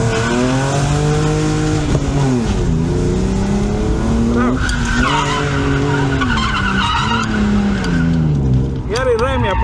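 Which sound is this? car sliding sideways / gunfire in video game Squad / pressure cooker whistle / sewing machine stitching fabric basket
car sliding sideways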